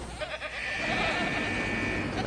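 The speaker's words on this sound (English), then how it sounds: "you can just release the goats" Goats released from a pen in the video game Jurassic World Evolution, bleating loudly and close by in one drawn-out call.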